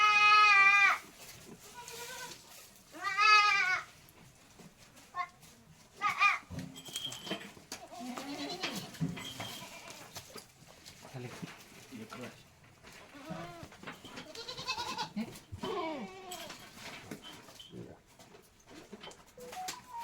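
Goats on a farm bleat again and again, some calls loud and close, others softer, with people talking and occasional bird sounds in between.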